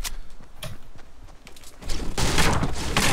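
A minigun fires in the video game Fortnite: scattered gunshots at first, then a dense, loud burst of rapid fire in the second half.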